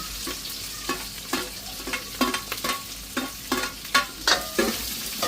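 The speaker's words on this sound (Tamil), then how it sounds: "நல்லா வந்து வெங்காயம் வதங்கி போடுது" Onions sizzling in a pan while being stirred, with repeated scraping strokes over a steady frying hiss, close up and fairly loud, no talking.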